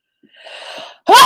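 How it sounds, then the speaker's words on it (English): One person sneezes loudly and close up, with a breathy intake leading into a sharp burst, during a quiet indoor qigong session. "Achoo!"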